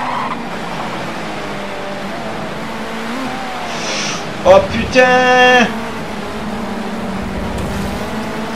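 A Mustang GT4 race car engine drones steadily in Project Cars 2 on a wet, rain-soaked circuit, with a brief louder burst near the middle as the car slides off its line, while a man exclaims over it.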